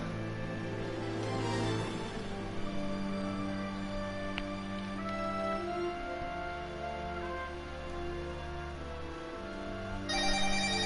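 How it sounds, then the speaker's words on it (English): A mobile phone ringtone rings during a home live stream, a melodic electronic tone repeating for about ten seconds, moderately quiet against a low background hum. "And that is my phone."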